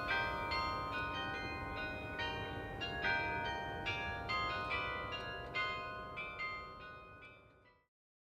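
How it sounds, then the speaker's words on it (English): Dutch church bells ring the hour on an evening at a carp fishing lake. The tones are clear and resonant and strike at a regular pace over a continuous rumble, then fade into silence. "with the Dutch church bells passing the hours of the evening away nicely"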